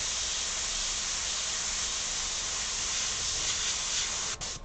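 An airbrush sprays opaque peach paint onto a denim jacket in a steady, close, continuous hiss, ending with a brief sputter as the spray cuts off.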